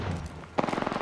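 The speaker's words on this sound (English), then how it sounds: "enemies are shooting at me." Rapid automatic gunfire from enemies in Apex Legends starts about halfway through, a steady close burst of shots following a brief stretch of muffled game ambience.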